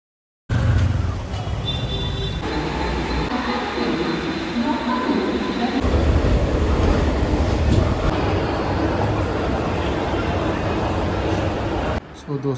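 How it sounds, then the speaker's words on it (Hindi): Steady rumble and rattle of a moving train carriage, loud and continuous throughout, with faint indistinct voices mixed into the background. "आज मैं ट्रेन से जाने वाला हूँ।"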